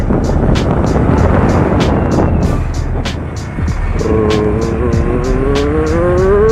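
A motorbike leaning through a turn on the Lonavala ghat road beside forest, engine droning steadily with rising pitch as it accelerates out of the bend, heavy wind rush over the microphone throughout.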